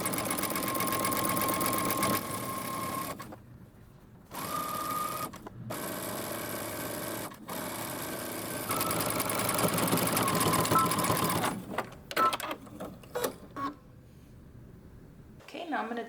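A sewing machine stitches elastic onto cropped leggings, running in loud bursts of several seconds separated by brief pauses, then a few short stop-start runs at the end.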